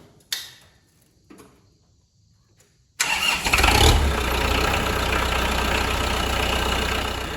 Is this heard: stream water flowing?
no